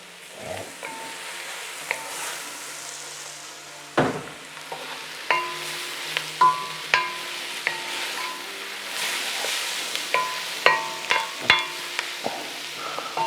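Mushrooms going into a pan of frying pork, with a soft steady sizzle under a series of clicking scrapes and stirs from a utensil against the pan.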